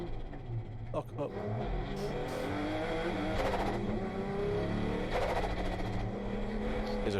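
Race car engine in iRacing at Silverstone: a steady, loud whine climbs and falls through gear changes, with revs dropping back and a brief tire squeal, while a commentator talks over it.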